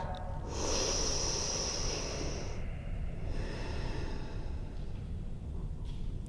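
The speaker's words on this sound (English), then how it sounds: "Give yourself 2 more breaths" Slow, deep breaths drawn in and let out during a yoga session, a long airy inhale and exhale heard close against a steady background hiss, with no talking.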